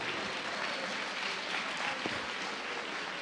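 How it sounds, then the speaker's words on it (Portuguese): A church congregation in a Portuguese-speaking service applauds the Lord, a continuous, moderately loud clatter of many hands with a few sharper claps standing out. "dando o melhor aplauso ao Senhor"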